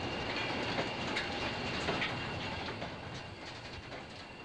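A train rolls past at Diggle in 1984, a steady, moderately distant rumble with faint rhythmic clatter of wheels over rail joints that slowly fades toward the end.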